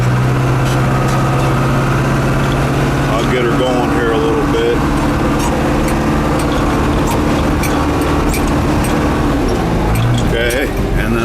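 A 1990 410C backhoe's diesel engine runs steadily at close range while the machine drives, shifting through gears, a loud continuous low drone with rising and falling revs and someone talking over it.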